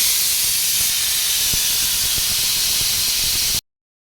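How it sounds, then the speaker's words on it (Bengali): Peas boiling for ghugni in a kitchen give off a loud, continuous hiss of steam that cuts off abruptly near the end. "মটর সেদ্ধ হচ্ছে, মানে ঘুগনি করব বলে মটরের জন্য।"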